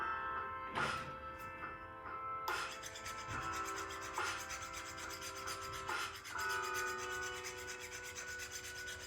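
A cut 4 file works the inside of a sterling silver wedding band ring, making repeated rasping scrapes with brief pauses between strokes over a faint, steady background hum.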